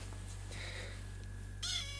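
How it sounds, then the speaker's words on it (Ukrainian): A cat meows twice at close range, a soft call followed by a brighter, louder meow at the end, over a steady low hum. "А це вже моя типу нова кіця."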